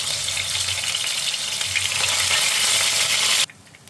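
Fish rubbed with salt and turmeric frying in a wok, giving a loud, bright, continuous sizzle that cuts off abruptly near the end.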